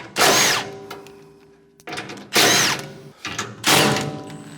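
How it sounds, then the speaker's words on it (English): An impact driver fitted with a 9/16 socket spins nuts off a snowblower fan motor, giving three loud, close bursts of rattling hammering with short pauses between them. "My handy little impact. Spin the nuts off."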